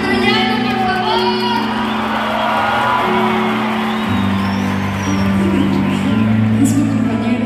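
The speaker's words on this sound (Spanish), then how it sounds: "Un aplauso para mi caballo troyano, por favor." A concert audience in an auditorium cheers, whoops and shouts loudly and continuously at a regional Mexican music show, with sustained tones from the stage running beneath the roar of the crowd.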